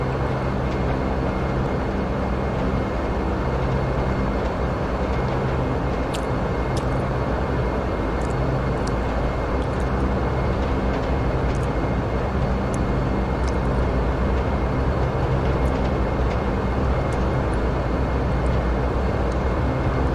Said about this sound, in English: We're just taxiing down the runway now.